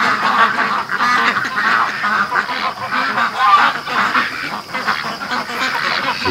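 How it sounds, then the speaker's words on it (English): Ducks quacking at 4 a.m., a dense flock calling in overlapping raspy quacks and honks, fairly loud and continuous throughout. "the ducks have been going all night"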